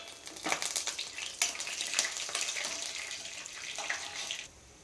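Peanuts roasting in oil in a pan over a medium flame give off a steady crackling sizzle with scattered sharp pops, loud and close for most of the stretch before quieting near the end.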